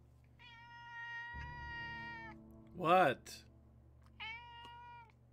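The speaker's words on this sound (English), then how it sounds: "I can occasionally hear him meowing." A cat meows in two drawn-out, tonal calls, one near the start and one near the end, fairly clear and close, while a short spoken question and a burst of voices break in between.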